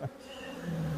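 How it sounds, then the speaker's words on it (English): Honeybees buzz steadily around an opened hive box in a quarantine apiary during an inspection, a close, continuous drone that swells slightly toward the end, with no talk. "These bees."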